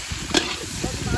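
Spices and garlic frying in an oil-filled kadhai for a chicken dish, a soft steady sizzle with a brief stir or clink near the start, close and fairly quiet.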